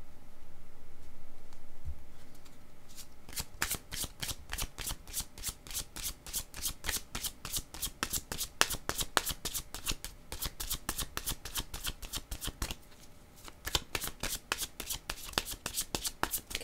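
A deck of cards is shuffled up close during a card reading, with several seconds of soft rustling followed by a long run of rapid, crisp riffling flicks that pause briefly and then resume.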